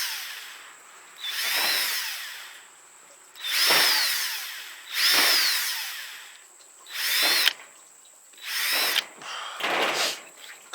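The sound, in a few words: drilling holes in plastic pipe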